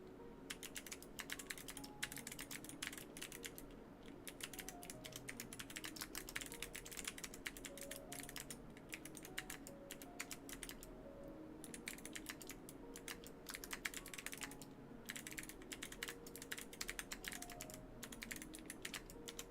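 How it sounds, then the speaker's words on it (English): Typing on an Epomaker Tide Alice keyboard fitted with Kale Bronze switches, a steady, dense stream of close keystrokes with uneven rhythm and short pauses over about twenty seconds, no voices. "So this is Kale Bronzes with Ghost Judge from KP Republic Space on the Tide Alice by Epomaker. Let's do a sound test."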